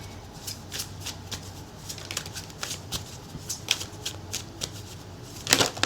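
Tarot cards are shuffled and drawn for a pile: a steady run of soft, papery riffling bursts close by, growing louder near the end, with no talk.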